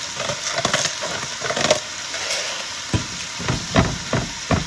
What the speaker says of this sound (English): So we're just gonna brown it up, mix it up.